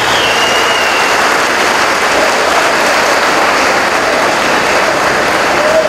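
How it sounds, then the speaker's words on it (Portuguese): A crowd at a store inauguration in Ourinhos, São Paulo claps loudly and continuously, a dense, even patter of many hands that holds steady from start to finish. "Vamos dar uma salva de palmas pro Nelsinho, gente."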